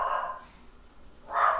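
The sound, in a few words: dog barking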